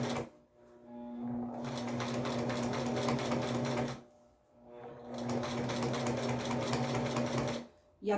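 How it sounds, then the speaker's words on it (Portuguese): A sewing machine stitches a baby quilt along a quarter-inch seam allowance in two steady bursts of running, each several seconds long, with a short pause between them and no talk. "Costurar com bastante cuidado, obedecendo a margem de 1/4."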